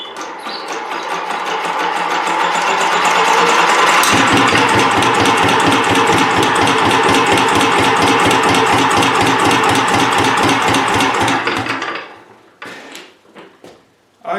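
A diesel generator engine hand-cranked to start, a loud rapid mechanical chugging that speeds up and runs steadily for several seconds before dying away into a few clattering knocks.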